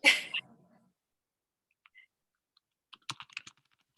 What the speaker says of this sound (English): I'm typing these things down.